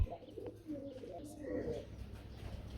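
Pigeons of the Bombay Rajgola and Beauty breeds coo softly at close range in a market setting, low murmuring calls rising and falling under faint background noise.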